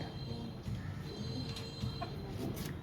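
Native chickens kept in a corner of a rooftop cluck softly and intermittently nearby, a quiet, close scratchy murmur of fowl with no one speaking.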